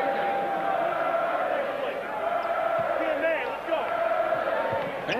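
Basketball arena crowd at a Duke versus Virginia college game, a steady roar of fans jeering freshman Bobby Hurley after his foul, loud and continuous with a commentator talking over it.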